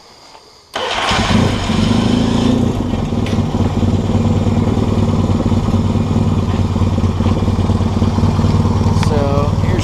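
Yamaha XS650 motorcycle fitted with a PMA and CDI charging and ignition kit cranks and fires up almost at once, then settles into a loud, steady, close idle that stays level.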